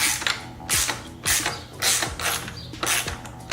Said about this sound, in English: then with a 17mm, screw this on